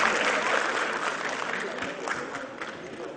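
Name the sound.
audience applause welcoming speakers on stage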